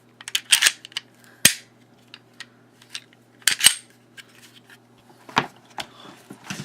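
A handgun is put back together by hand, sharp metallic clicks and snaps coming close and irregular, with several louder clacks among quieter rattles and no talking.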